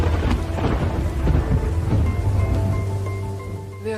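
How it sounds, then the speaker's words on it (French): Heavy rain falls as a thunderstorm breaks over an airport, with deep, rolling rumbles of thunder and a steady low drone running underneath throughout. "Et soudain, l'orage éclate."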